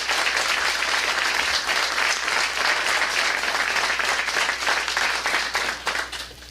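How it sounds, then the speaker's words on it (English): Sustained applause from a sizable crowd, loud and even, many hands clapping together before tapering slightly at the end. "I think he deserves a round of applause"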